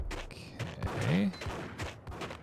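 Gunfire in Max Payne, scattered shots and short bursts popping irregularly amid game effects, with a voice talking over part of it.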